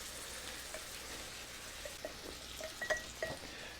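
A rubber spatula stirs coconut milk into a Thai curry with sweet potato and pork, giving a soft, quiet bubbling sizzle and a few light scrapes and taps against the pot toward the end.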